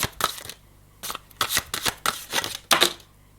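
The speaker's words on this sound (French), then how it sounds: "Ils sont pas faciles à battre, ces grandes cartes." Large tarot cards being shuffled by hand, a series of crisp riffling bursts separated by short pauses, close and fairly quiet with no talking.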